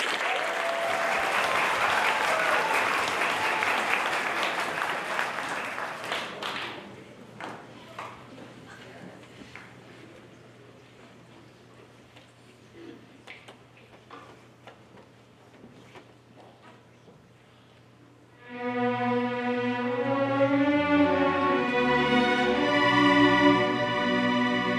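Audience at a concert claps in a burst of applause that fades to scattered claps under a low hum, before music takes over near the end.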